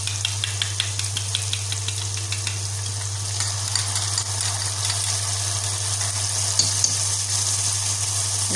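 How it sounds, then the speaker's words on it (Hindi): Masala with yogurt fries in a pan for roti ka salan, giving a steady close sizzle with light stirring. A low constant hum runs underneath. "इसको बहुत ही अच्छी तरीके से भून लेती हूँ"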